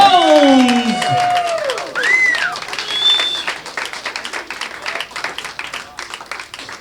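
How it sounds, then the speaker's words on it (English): Audience applause and some cheering for the 2012 ladies champion at the finals of a US amateur billiards championship, a steady clatter of many hands with high whoops over it early, gradually thinning out. "Big round of applause for Tammy Jones."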